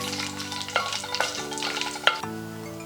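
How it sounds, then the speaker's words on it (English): Five dried Szechuan chilies sizzle in a tablespoon of sesame oil in a big pan, a close steady fry with a few sharp scrapes and knocks as they are stirred. "add 5 dried up Szechuan chilies. And give that a good mix"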